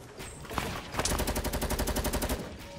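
Minigun in a video game firing a rapid, evenly spaced burst of shots, loud and close, after a couple of single bangs, then stopping abruptly.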